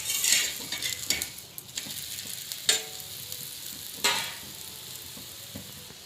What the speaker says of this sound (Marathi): तेल टाकून भाजून घ्यायचं आहे।